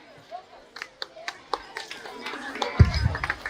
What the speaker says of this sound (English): Make a sound by giving clap.